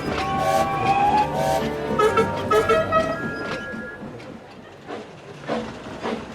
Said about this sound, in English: The works train rolled into the station and was greeted with a chorus of cheers and whistles.